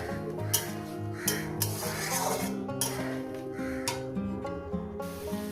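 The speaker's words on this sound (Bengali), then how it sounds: "টমেটোটা দিয়ে দিলাম এবার এটা সুন্দর করে মিনিট ধুয়ে করে কষিয়ে নেব দু মিনিট কষাবো" Chopped tomatoes with green chili stir-fry in a pan for paneer posto, heard as repeated rasping scrapes of a spatula against the pan over a steady musical backing.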